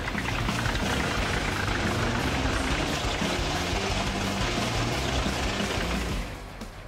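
JT600Z Lithium wood chipper running: a dense, steady mechanical roar with low rumble and broadband grinding noise, continuous and loud for about six seconds before easing slightly.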